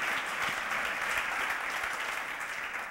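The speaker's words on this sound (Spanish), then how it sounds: "Dale un aplauso primero al Señor." A church congregation claps in praise during a Spanish-language sermon, dense and steady applause filling the room without a break.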